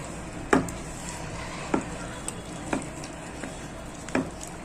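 A hand stirs flour into water to dissolve it, making a steady wet swishing with a few louder scraping knocks against the vessel at irregular intervals, close and alone.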